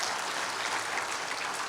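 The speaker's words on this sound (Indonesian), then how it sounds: "Ayo beri tepuk tangan buat Yesus dulu" A church congregation applauds, a dense, steady wash of many hands clapping together, fairly loud and sustained without pause.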